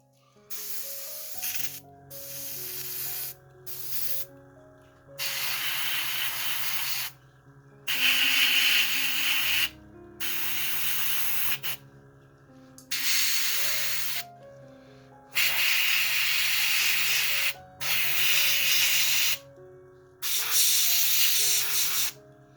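An airbrush sprays paint onto a Gaslands model vehicle in about nine distinct hissing bursts, each several seconds long and separated by short pauses, close and clear over a quiet tonal background.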